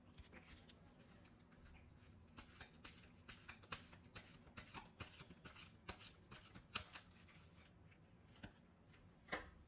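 Tarot cards are shuffled and drawn close up, quiet riffling and sliding card sounds with irregular soft snaps and taps, ending in a sharper flick.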